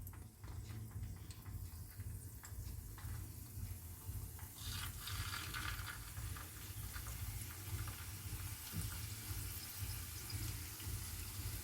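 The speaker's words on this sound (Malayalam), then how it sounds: "കോണായിട്ടെടുത്തത് വറുത്ത് കോരുകയാണ്." Cone-shaped paneer samosa pastry fries in hot oil, giving a continuous bubbling sizzle that holds steady from start to finish with no voices over it.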